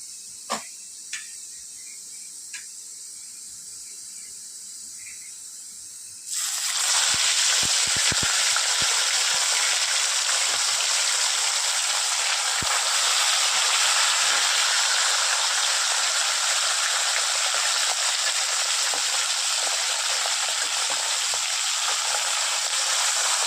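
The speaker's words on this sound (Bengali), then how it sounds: "চলুন মাছগুলো আমি ভেজে নিই" Bhola fish hits hot oil and starts frying, giving a sudden loud, steady sizzle and hiss that keeps going close by after a few quiet seconds of faint clinks.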